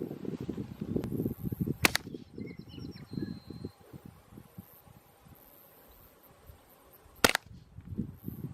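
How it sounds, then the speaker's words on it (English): Suppressed .22LR rifle fired with CCI or Winchester ammunition outdoors, giving two sharp, distinct cracks several seconds apart over faint insect buzzing, rather than a full string of five shots. "Someone's going to fire 5 shots, and we'll see how it groups."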